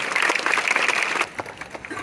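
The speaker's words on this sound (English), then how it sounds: "A big round of applause" Audience applause at a school event, loud dense clapping for about a second before dropping to scattered fainter claps.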